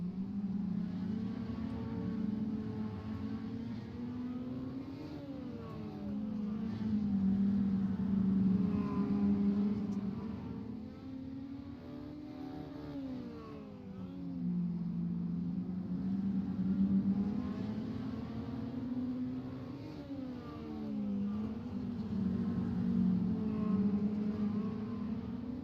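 Rookie dirt mini stock race cars circle Fairbury Speedway, their engines droning steadily and swelling louder then fading as the pack passes, a continuous mid-distance roar with no talk over it.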